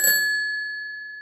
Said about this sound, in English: it still has the bell on the bicycle.